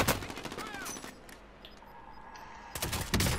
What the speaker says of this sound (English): Someone shooting me.